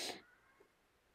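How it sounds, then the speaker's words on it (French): A house cat lets out a short meow at the start, fairly close and fading quickly into quiet room tone. "Mon chat!"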